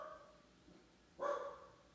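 A dog barks at the door indoors, one short, fairly loud bark after a faint earlier yip, with no talk over it.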